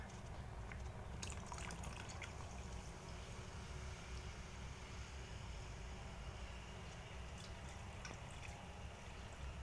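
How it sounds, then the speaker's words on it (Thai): Water pours steadily into a cooking pot of fish broth for Lao rice-noodle soup, a continuous liquid rush with a few faint clinks, no voices. "เทน้ำเปล่าลงอีกเนาะ"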